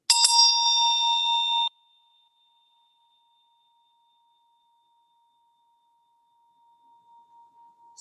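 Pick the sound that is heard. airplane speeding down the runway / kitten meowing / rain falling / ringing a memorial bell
ringing a memorial bell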